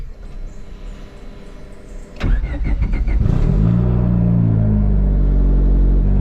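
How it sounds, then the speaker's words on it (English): A turbocharged Honda Civic with a built single-cam engine and newly installed fuel system cranks briefly and fires up loudly, then settles into a steady, close, rumbling idle. "So let's get this thing fired up and go take it for a ride"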